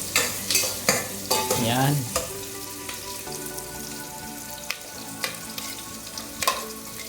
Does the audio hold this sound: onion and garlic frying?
yes